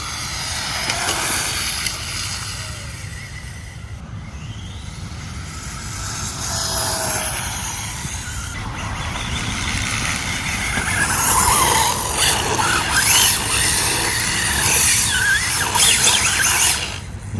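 A 1/10 scale RC Traxxas Rustler 2WD set up as a no-prep drag car runs with a continuous high-pitched motor whine and tire squeal, steady throughout and swelling louder toward the end.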